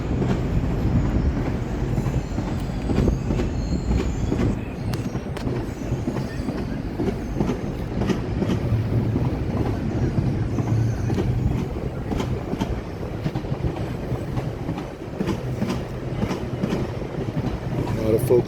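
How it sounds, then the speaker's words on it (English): A GO train rolls past on tracks beside the Rogers Centre in Toronto, its loud steady rumble and clickety-clack of wheels close by, with occasional squeals and a voice talking over it. "GO train passing. Tracks right next to Toronto Rogers Center."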